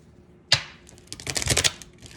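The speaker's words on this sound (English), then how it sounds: "let me shuffle one from this deck real quick" A deck of oracle cards is shuffled once up close: a sharp initial riffle snap followed by a quick burst of papery flutters and clicks, quiet and alone without talk.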